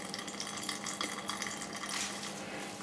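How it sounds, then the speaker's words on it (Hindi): Water from shredded cabbage wrung out in a bag trickles and splashes steadily up close, with brief bursts of sharper dripping as the bag is squeezed. "अब इसको हम इस तरह से निचोड़ लेंगे, उसमें जितना भी एक्स्ट्रा पानी है निचड़ जाएगा"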